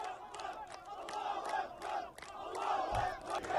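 An emotional crowd parades through the streets in the West Bank, a loud mass of overlapping shouting voices rising and falling in bursts, sustained and fairly close throughout.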